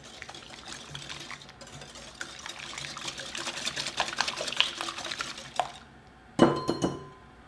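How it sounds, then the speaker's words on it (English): A whisk stirs pumpkin waffle batter with sugar and vanilla in a bowl, quick repeated clinking strokes against the side that build for several seconds, then stop, followed by a brief clatter of utensils. "Give this a good whisk."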